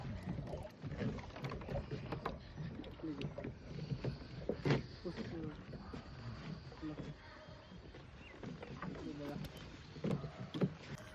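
Water lapping and paddle strokes from a rowing boat on a lake, with people talking over it and light wind noise.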